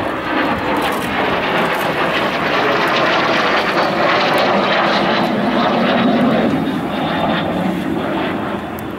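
An Aero L-39C Albatros jet trainer flies at the RIAT airshow, a loud continuous jet roar holding steady throughout and swelling slightly as it passes, with no talk over it.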